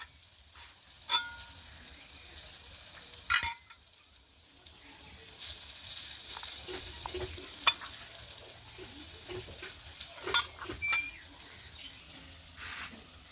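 Boiled red lentils being mashed and mixed by hand into a bhorta make soft, squelchy, irregular sounds over a faint background hiss, with a few sharper clicks and no talking.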